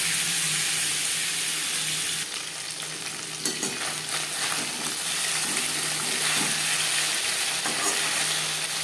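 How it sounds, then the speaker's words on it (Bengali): Stinging catfish fry lightly in hot oil with a loud, continuous crackling sizzle, broken by a few soft clatters as the pieces are turned. "উল্টো পাল্টে মাছ হালকা করে ভাজা হয়ে গেছে"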